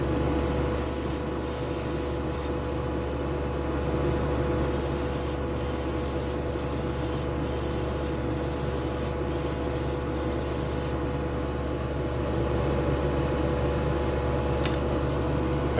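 A spray gun sprays Gaahleri Kaleido Colorworks paint at 25 psi with no thinner in a paint booth, a steady close hiss running throughout with repeated short bursts as the trigger pulses on and off, over a constant booth fan drone.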